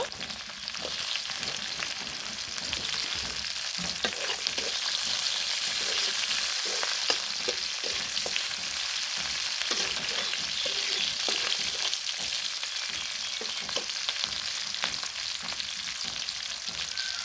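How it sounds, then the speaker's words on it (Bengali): Onions and chopped green chillies sizzle steadily in a hot pan, a continuous bright frying hiss with occasional soft stirring scrapes, close and even throughout with no talking. "পেঁয়াজগুলো ভালোভাবে ভেজে নিয়েছি। এখন এখানে কাঁচামরিচ কোচানো দিয়ে দিব।"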